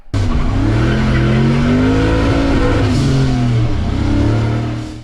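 A Mazda rotary pickup truck, sat unused for 25 years, runs and drives with a loud, steady engine drone and shifting revs, close and continuous with no talking.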